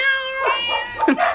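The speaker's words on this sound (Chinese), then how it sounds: "这个是蓝猫" A blue cat gives a couple of short, close meows, clear and fairly soft.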